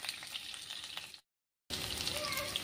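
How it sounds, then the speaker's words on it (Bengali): Scored eggs coated in turmeric fry in hot oil for dim kalia, a close, steady sizzle that cuts out into a brief silence and then resumes just as strongly. "দিয়ে আমি হলুদ মাখিয়ে ভেজে নেব"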